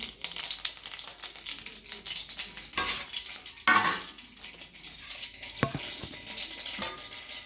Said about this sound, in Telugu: ఆయిల్ అయితే కాగింది, ఆవాలు,